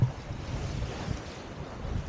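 Steady wind roars and waves rush around the yacht Schiehallion as it sails under wind power alone with no engine, a continuous close, blustery wash.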